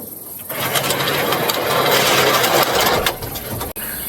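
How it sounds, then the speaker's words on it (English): A power driver tightens screws on a retractable pergola canopy, a loud continuous motor whir running for about three seconds before cutting off, followed by a brief quieter tail. "So he is tightening up some of the screws on that end."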